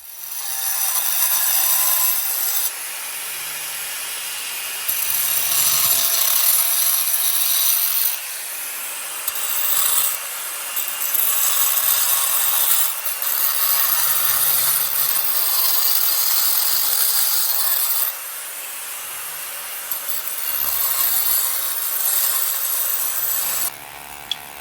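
A power saw cuts grooves into a concrete floor for a linear drain, a harsh, loud grinding rasp in long bursts broken by short pauses, close and alone.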